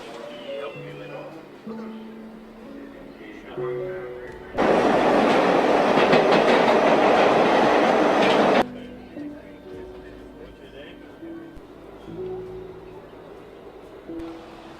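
A New York City subway train running, heard as a loud, dense roar of rattling wheels and cars lasting about four seconds, set between stretches of background music.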